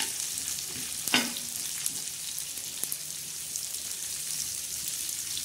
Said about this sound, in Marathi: छान असा आता कांदा आपण भाजून घेणार आहोत